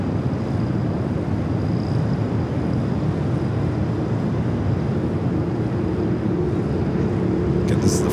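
A jet taking off from runway 25 Left at Los Angeles International Airport, its steady broadband engine roar loud and continuous throughout, with a faint thin whine above and wind noise across the microphone.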